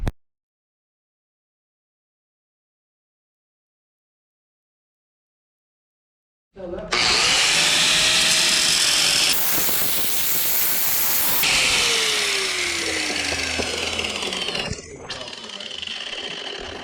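A loud, harsh power tool grinds and cuts through a Mustang muffler tip continuously after several seconds of silence, with a shrill whine shifting in pitch.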